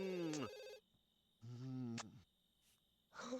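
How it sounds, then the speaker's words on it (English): A telephone rings in The Sims 2 video game, two short electronic ring bursts separated by a pause, clear and alone with no talk over them. "Not the phone ringing."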